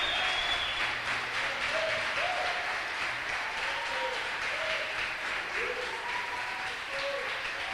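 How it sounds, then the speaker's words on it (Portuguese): A church congregation applauding, a dense sustained wash of many hands clapping that holds steady and fairly close, with voices faintly mixed in under the clapping. "Você pode aplaudir o Senhor"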